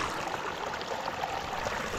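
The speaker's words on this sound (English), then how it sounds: "One of the great things about Yosemite is all the flowing water." Cold mountain stream in Yosemite flowing over rocks, a steady broadband rush of water, fairly faint and continuous with no voices.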